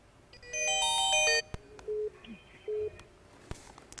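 A telephone on a call-in radio show gives a burst of electronic ringtone chirps, followed by a few evenly spaced beeps and sharp clicks, fairly loud and close.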